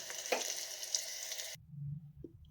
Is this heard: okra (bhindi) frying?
yes